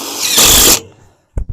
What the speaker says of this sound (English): So I will go ahead and pop the end screw there